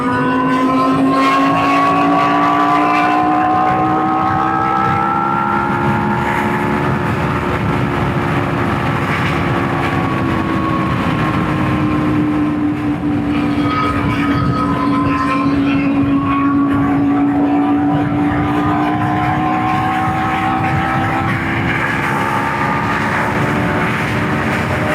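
A BMW HP4 racing motorcycle engine at bike night, screaming at high revs with a piercing, F1-like whine that rises and falls through gears for a long sustained stretch, loud and close.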